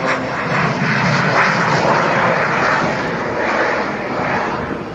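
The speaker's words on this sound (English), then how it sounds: "It's a propeller aircraft with a jet engine." A propeller aircraft fitted with a jet engine flies over an air show in Ayr, Scotland, its steady broadband roar loud and sustained, with a gently rising and falling drone as it passes.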